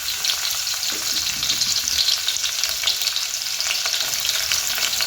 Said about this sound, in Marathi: तेल तापलं की आपण लसूण टाकायचा आहे। तर मी लसूण टाकून घेते।